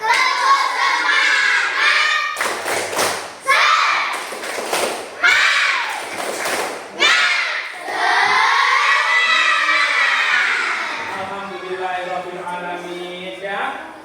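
A fourth-grade class of children in a classroom doing a rhythmic spirit clap, loud sharp bursts of clapping in a patterned beat woven together with the pupils' chanting and shouting voices, close and energetic.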